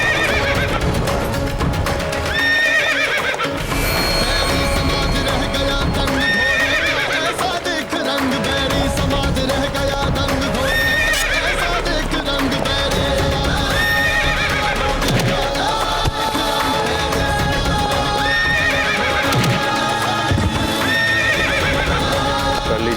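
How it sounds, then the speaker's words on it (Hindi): A horse in a Hindi historical TV drama about Maharana Pratap whinnies repeatedly over steady clip-clopping hooves, all within a dense, continuous, loud soundtrack with no pauses. "घोड़ा तो अच्छा है, लगता है इसका घोड़सवार हम सबको देख के भाग गया।"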